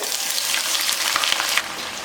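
Green chillies hitting hot oil with mustard seeds for a garlic pickle, a loud, dense, continuous crackling sizzle close by with no voices.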